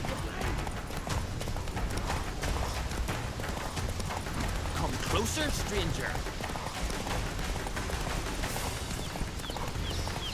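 A galloping horse, Roach from The Witcher 3, drums out a steady stream of clip-clopping hooves throughout, loud and unbroken, while a voice calls out briefly over the hoofbeats.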